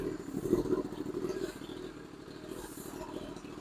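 Motorcycle engine idling steadily just after a cold start, a low rumbling putter with a slight rise early on, heard close and alone without talk.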